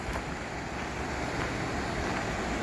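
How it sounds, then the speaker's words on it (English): Palisade Creek rushing down a mountain canyon below Palisade Lake, a steady broadband roar of flowing water mixed with wind noise, continuous and fairly close. "This is Palisade Creek."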